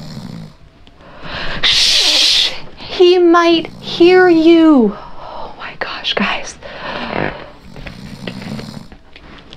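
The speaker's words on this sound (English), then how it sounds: "Listen to that horrible snore." Whispered voices come first, then loud, rasping snores with a drawn-out wheezy tone, followed by more hushed talking.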